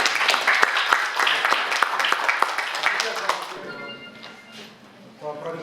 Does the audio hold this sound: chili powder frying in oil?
no